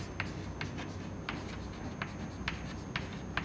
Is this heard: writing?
yes